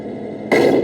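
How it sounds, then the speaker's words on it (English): Simulated cannon shot from the sound unit of a Tamiya 1/16 Centurion RC tank: after a quiet hiss, a single loud, abrupt blast cuts in halfway and holds as a dense, sustained burst. "And then you've got your cannon sound"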